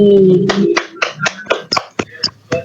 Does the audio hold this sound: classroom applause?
yes